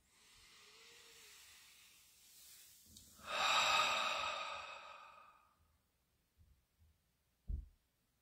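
A single slow meditative breath during a guided session: a soft, faint inhale builds into a louder, breathy exhale that tapers off, followed by a few quiet bumps, close to the microphone with no talking.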